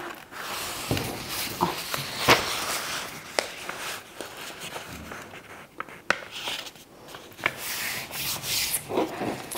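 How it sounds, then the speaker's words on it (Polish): A sheet of paper is folded and creased by hand, producing continuous rubbing and scraping with occasional sharp crinkles, close and fairly quiet, with no voices. "Zginamy kartkę w taki sposób."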